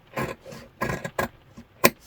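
Sharp scissors cut through fabric for a travel wet bag in several short, crisp snips and scrapes, close up, each separated by brief pauses.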